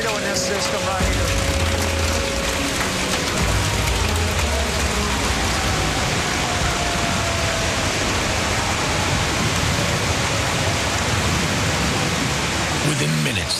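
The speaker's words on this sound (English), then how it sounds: "Within minutes, the winds reach 70 miles per hour, and baseball-sized hail starts to fall." A storm with 70 mph winds and baseball-sized hail falling creates a dense, loud roaring wash of noise that stays steady and unbroken throughout.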